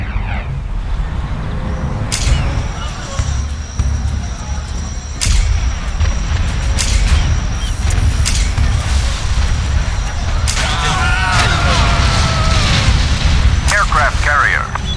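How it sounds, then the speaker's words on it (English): In C&C Generals Zero Hour, offshore battleship artillery fires repeated booming shells with sharp blasts every couple of seconds, loud over rumbling battle noise, while a voice announces unit callouts. "Offshore artillery."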